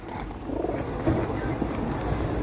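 Soft, low pigeon coos repeat in a gentle rhythm amid a murky background rumble, fairly close but not loud.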